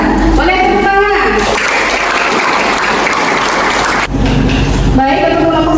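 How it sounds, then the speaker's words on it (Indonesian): Classroom applause among students in a nursing school in Pontianak, a loud burst of group clapping in the middle of the clip, with speech before and after it. "Boleh tepuk tangan."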